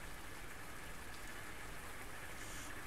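Steady rainfall, a dense even hiss of drops running unbroken and fairly close through the whole stretch.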